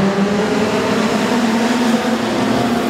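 Production sedans race at Wahgunyah Speedway in an Australian Title heat, a loud, steady roar of many engines at full throttle blending into one continuous drone.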